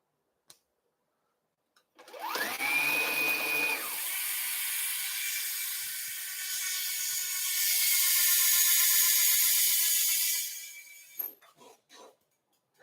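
An electric motor whirs up with a rising whine, runs as a bright, high-pitched buzz like angry hornets, then freewheels with a sustained hissing whir before winding down to a stop; nobody speaks.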